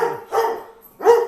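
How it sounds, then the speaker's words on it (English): Puppies barking on a YouTube video played back indoors, three short yappy barks separated by brief gaps, close and fairly loud. "puppies on YouTube"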